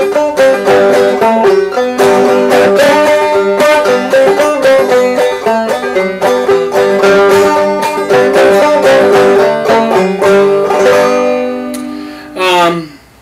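A Wildwood Wenga banjo with its magnetic resonator removed gives a classic open-back tone, quick plucked notes and rolls ringing close and clear, played alone before a final strum fades out.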